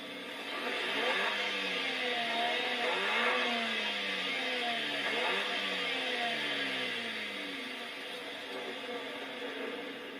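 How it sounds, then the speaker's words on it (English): A Daihatsu Copen time attack car's engine in a video game, revved several times in a row, each rev a sharp rising and falling whine, loud and close and steady throughout with no talking. "that's the sound of a car that beats your favorite GT3 racing car"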